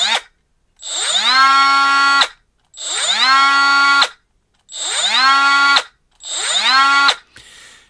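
A Milwaukee M12 FUEL 12-volt brushless cordless 3 in. cut-off saw is triggered four times, each time spinning up to a loud, steady high whine and then braking quickly to silence. The saw is close, with no talking.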